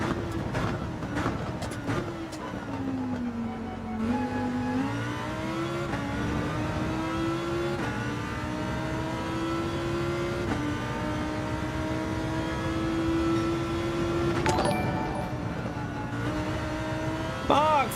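Race cars in Gran Turismo 7 hold a steady, loud engine drone with rising revs and gear changes throughout, a voice talking over the continuous motor whine.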